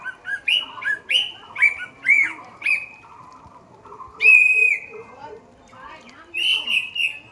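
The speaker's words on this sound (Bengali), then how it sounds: "এটা আমার ফেভারিট পাখি। ও ওই যে বসে আছে। এর শব্দটা এত সুন্দর লাগে আমার।" A bird calls from a perch outside a house, clear whistled chirps repeated in rhythmic phrases, close and distinct, with a soft voice murmuring faintly underneath.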